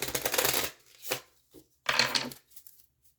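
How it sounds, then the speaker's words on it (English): A deck of cards being shuffled in several quick riffling bursts, close and crisp, with short pauses between them. "let me shuffle these a little bit."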